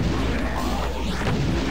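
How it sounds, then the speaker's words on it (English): Fireballs hurled by monsters in the Doom game The Plutonia Experiment, heard as a steady, loud roar of whooshing blasts overlapping into one continuous barrage. "How many fireballs do you have to fire until you're satisfied?"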